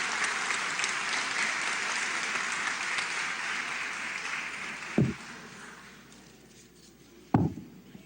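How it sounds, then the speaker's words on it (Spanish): Audience at a labor rights forum applauds to welcome a speaker, dense clapping that tapers off, followed by a couple of sharp knocks or thumps. "Lo recibimos con un fuerte aplauso"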